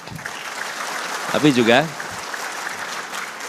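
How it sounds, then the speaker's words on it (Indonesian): Audience applause at a political speech at the LDII national working meeting, a steady patter of clapping running throughout, with a voice speaking briefly over it midway. "boleh tepuk tangan"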